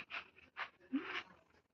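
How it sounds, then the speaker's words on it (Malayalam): A dog gives a few short, breathy barks and yips in quick succession, fairly faint and close, with some panting between them. "Bow bow bow bow bow വെക്കുന്നു. ബൗ ബൗ പട്ടി."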